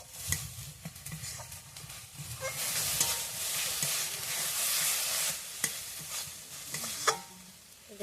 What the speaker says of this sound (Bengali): মশলাটাকে আমি কষিয়ে নেবো ভালো করে।